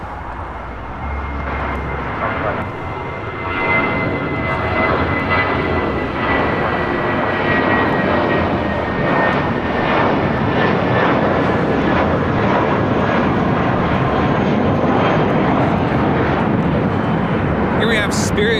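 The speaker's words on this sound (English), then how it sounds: "Here we have Spirit Flight 507 taking off to Las Vegas on an A320." Spirit Airlines Airbus A320 airliner taking off at LAX for Las Vegas, a loud, steady broadband jet roar that holds at nearly constant level throughout, with faint voices mixed underneath.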